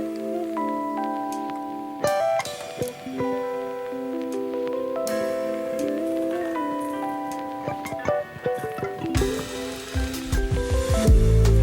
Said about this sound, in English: now I'm going to sew on it for the first time